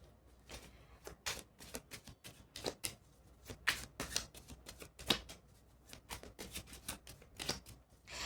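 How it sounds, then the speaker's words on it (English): Tarot cards being shuffled by hand, a close run of crisp riffling and flicking bursts in uneven rhythm, fairly quiet, with no talking. "I want to pull out your tarot cards first"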